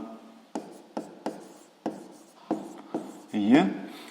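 A pen writing out a sixth-grade math solution in a notebook, a series of short scratchy strokes spaced about half a second apart, close and quiet, ending in a longer scribble.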